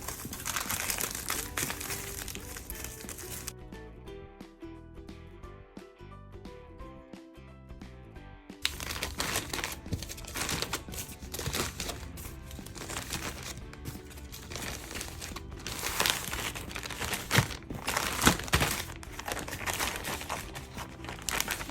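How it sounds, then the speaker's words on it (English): Aluminum foil wrapped around homemade breakfast sandwiches, a run of close crinkling and crumpling with a brief quieter gap early on, then steady rustling throughout. "So we're just going to wrap these up in aluminum foil."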